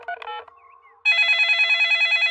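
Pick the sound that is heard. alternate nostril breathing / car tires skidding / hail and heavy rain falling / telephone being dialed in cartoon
telephone being dialed in cartoon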